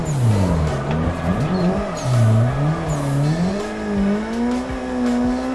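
A car drifting down a track in Assetto Corsa, the engine rising and falling as it revs through transitions, with short tire squeals breaking in, loud and close with no talking.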